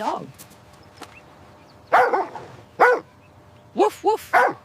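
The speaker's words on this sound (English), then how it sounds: "It's a dog." A dog barks in short, separated bursts, one bark followed after pauses by a quick cluster of three, close and fairly loud over a quiet background.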